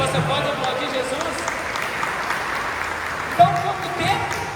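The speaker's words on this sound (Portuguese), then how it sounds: "Você pode aplaudir Jesus." A church congregation applauds in a continuous, steady wash of clapping from a crowd inside a hall, moderately loud, with a voice faintly under it.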